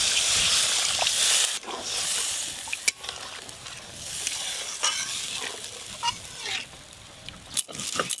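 Katla fish kalia gravy cooking in a pan after water is added to the fried masala, a close bubbling sizzle with spoon scrapes and occasional sharp clinks against the pan, no speech.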